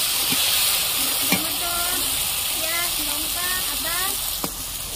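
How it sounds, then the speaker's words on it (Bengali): Spice paste of tomato, ginger and garlic frying in a pan for a Bengali rui fish curry, a steady loud sizzle with scraping stirs and a few sharp clinks, a voice talking over it. "টমেটো, ময় মশলা যত কিছু আছে এখানে, আদা রসুন সব দিয়ে একবারে এটাকে মশলাটা ভেজে নিচ্ছে"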